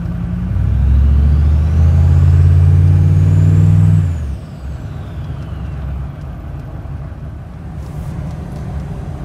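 A 6.5 diesel engine fitted with a swapped S300 turbo exhaust housing revs loudly with a deep low rumble and a rising turbo whistle, then drops abruptly to a quieter idle that keeps running.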